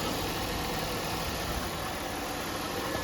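A rebuilt 3.8 liter Series 2 V6 car engine idles at close range, a steady low rumble with even vibration and no talk over it.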